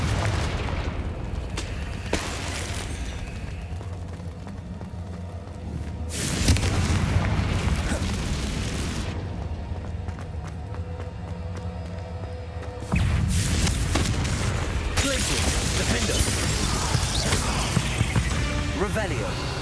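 Confringo spell blasts in the video game Hogwarts Legacy: two heavy booming explosions, each followed by a sustained rumbling roar, loud and close, over a dense backdrop of game sound.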